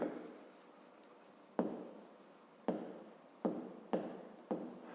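Digits are handwritten on paper with a pen, a close scratchy run of strokes broken into about five distinct bursts, each starting sharply and fading, with no voice.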